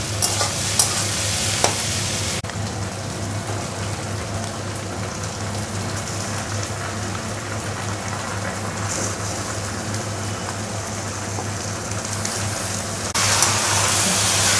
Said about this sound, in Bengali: খাসির মাথা দিয়ে 3 মিনিট নেড়ে চেড়ে নিয়েছি।